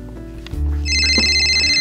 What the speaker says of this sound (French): Mon portable sonne.